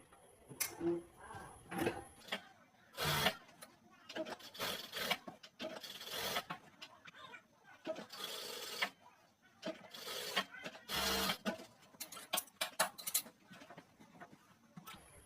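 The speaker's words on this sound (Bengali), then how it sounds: "এই গলার কাপড়টা উল্টা বাসায় রেখে মিডিল পয়েন্ট মিল করে আমরা এখান থেকে সেলাই দিয়ে দেবো" A sewing machine stitches the neckline of a blouse, running in repeated short bursts of fast mechanical whirring with brief stops between, close and fairly steady over the whole stretch.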